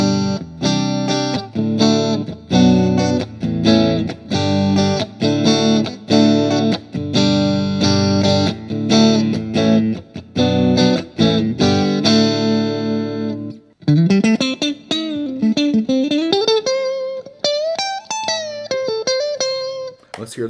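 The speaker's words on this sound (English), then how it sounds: "Let's hear the bridge and middle pickup." An Oscar Schmidt OS300 Stratocaster-style electric guitar on bridge and middle pickups played loud with chorded strums and single-note runs, a bright, slightly driven tone ringing out alone without talk.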